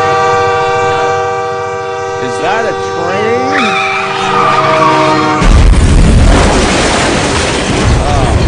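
A passing train sounds its loud horn in a sustained multi-tone blast with a shifting pitch, then gives way to a heavy roaring rumble of cars rolling close by.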